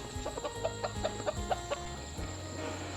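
Chickens on a Lao countryside homestead give a series of short, close clucks in an irregular rhythm over a low steady background hum, with no voices.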